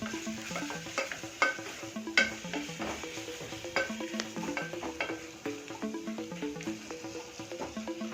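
Ginger garlic paste for chicken dum biryani fries and sizzles in a pan, with a spoon scraping and clinking against the metal in irregular strokes, moderately close and without talk.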